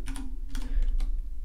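A handful of close, crisp keystrokes on a computer keyboard in a quick irregular burst, heard alone against a steady low hum.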